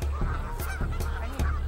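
Geese honking loudly up close, four or five sharp honks in quick succession over a low rumbling background.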